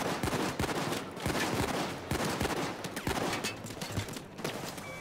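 Dense, rapid gunfire fills a Payday 2 heist shootout, with overlapping bursts and shots in constant succession, loud and close throughout.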